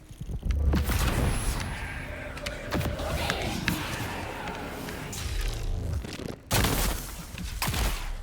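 Detonation explosions in the Dune: Awakening game: a rapid series of loud, close booms and bursts over combat noise, a short break, then more blasts.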